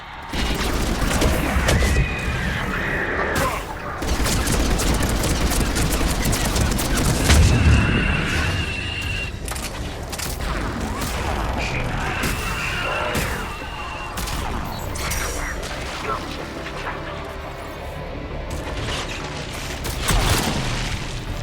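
Heavy sci-fi combat from Mass Effect 3 fills the scene with a dense barrage of missile fire: repeated loud booms and crashes, sustained throughout, with a particularly heavy impact near the middle.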